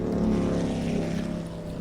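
A motorboat engine drones in a steady low rumble, close and continuous with a faint rhythmic chop, with wind and water noise behind it and no talking.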